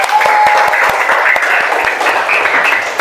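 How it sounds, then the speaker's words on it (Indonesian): Group of people clapping together indoors, a dense steady round of applause about three seconds long, loud and close with no talk over it. "Tepuk tangan untuk kita semua sekali lagi."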